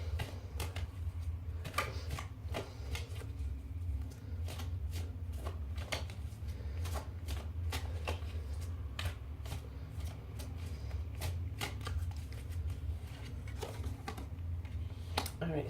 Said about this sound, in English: So I'm going to pull a goddess card